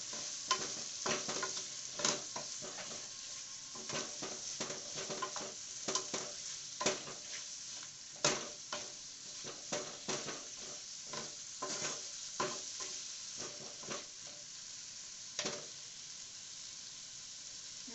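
Paneer butter masala sizzling in a pan while a spoon stirs it, with repeated scraping strokes and crackling bursts over a continuous fry, close and alone with no speech.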